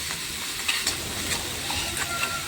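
Chopped green chilli and onion sauté in a pan, a quiet continuous sizzle broken by a few soft scraping stirs.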